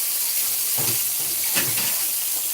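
Bombil fish and prawns frying in a pan over a medium gas flame, a steady close hiss of sizzling oil with a few brief louder spatters and no talk.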